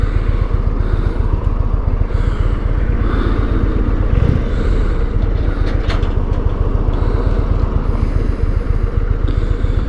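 An Indian Roadmaster touring motorcycle at speed, a steady loud engine drone mixed with rushing wind, continuous and close throughout without pauses.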